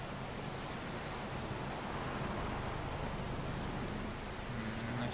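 Heavy storm rain pours steadily during a tornado chase, a dense, constant hiss that fills the whole stretch without letup, with no voices over it.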